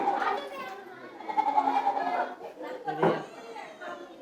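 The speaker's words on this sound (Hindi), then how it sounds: "ये भी बकरा है।" A goat bleats among excited children at an Eid gathering, its calls blending with steady chatter and kids' voices close by.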